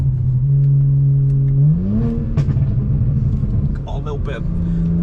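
A drag-tuned street car with a modified transmission accelerates flat out, its engine note droning steadily and then rising as revs climb, followed by rough exhaust burble and crackle, loud and close with voices talking over it.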